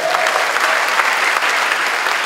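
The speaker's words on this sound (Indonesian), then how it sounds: "Tepuk tangan sekali lagi buat Tuhan Yesus" A church congregation applauds during a worship service, a dense, steady wash of many hands clapping together, loud and sustained throughout.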